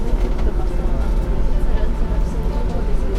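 An Enoden electric train departing a station in Kamakura, a continuous low rumble and rolling clatter heard from on board or nearby, steady and moderately loud.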